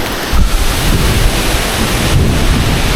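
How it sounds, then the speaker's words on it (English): Thunder rumbling near Pongour waterfall outside Da Lat, Vietnam, a deep, steady roar with swells near the start and again after two seconds, blended with constant rushing water and wind, with no talking. "Oh, the thunder is coming."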